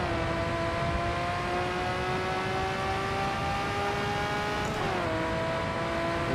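A 1980s or 1990s supercar races another on a drag strip, its engine droning in a steady high whine that climbs in pitch, dips once and climbs again, loud and close, with no voices.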